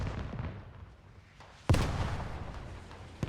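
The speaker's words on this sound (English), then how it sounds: "Good frag rounds." In the military video game Squad, a tank's frag rounds explode in a desert battle, with a low background rumble followed by one sudden loud blast and a trailing roar.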